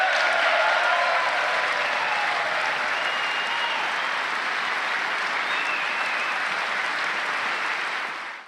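Sustained, loud applause from a packed chamber at the State of the Union, a continuous wash of clapping that holds steady for several seconds and then cuts off abruptly.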